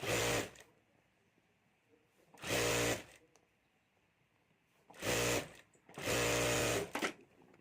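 A sewing machine stitches the upper edge and lining of a fabric jewelry bag in four loud bursts of running, separated by quiet pauses.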